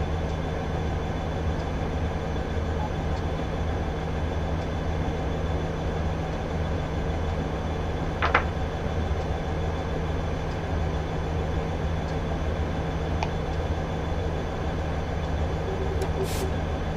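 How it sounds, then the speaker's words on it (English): A long freight train in a train simulator game rolls past on Horseshoe Curve with a steady, continuous low rumble and hum, a few faint metallic clanks and squeals breaking through now and then. "waiting for the longest freight train in the history of freight trains to go past us"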